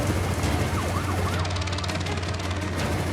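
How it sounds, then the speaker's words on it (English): An emergency siren wails with rising and falling sweeps during a giraffe transport in the wild, the tones starting partway in and growing clearer over a steady low engine rumble. "There's the siren, there's the siren."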